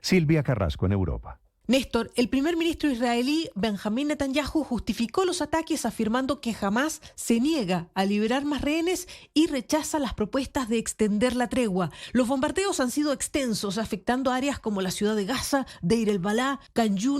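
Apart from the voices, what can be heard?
No everyday noises stand out.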